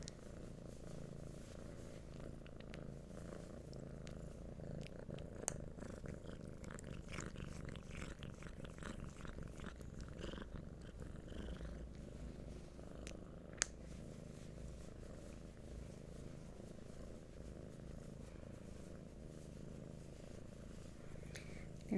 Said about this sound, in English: There's some serious purrs going on here.